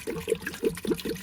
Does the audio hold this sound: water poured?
yes